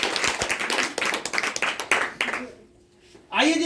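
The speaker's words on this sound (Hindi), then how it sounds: "तो एक बार अपने लिए जोरदार ताली लगा लीजिए।" A live audience bursts into energetic rhythmic clapping that fades out after a couple of seconds, leaving a near-silent pause before a speaker's voice resumes.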